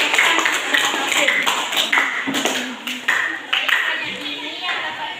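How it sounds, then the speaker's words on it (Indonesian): Students in a junior high classroom clap their hands in uneven bursts, fairly close, with voices talking and calling out over the clapping throughout. "tepuk tangan"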